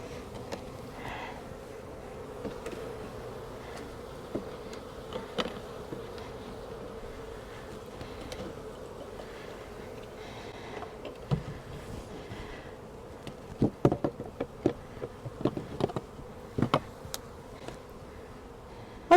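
Honeybee swarm moving into a new hive, a steady low buzzing hum of many bees close by, with scattered sharper flicks and bumps from insects and hive handling, no talk.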